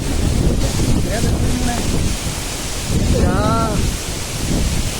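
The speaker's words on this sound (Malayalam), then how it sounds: "ഭയങ്കര കാറ്റ് വീശുന്നുണ്ട്." Strong, steady wind roars and buffets the microphone throughout, with voices faintly audible underneath.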